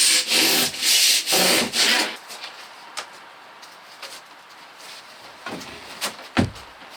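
PIR insulation board being trimmed to fit over rafters, giving two loud bursts of rough rasping cutting strokes at close range, followed by quieter scattered scrapes and taps.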